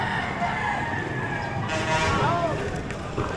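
Chickens call amid the bustle of the Padre Garcia livestock auction market in Batangas, with a rooster-like crow rising over steady crowd noise and people talking nearby.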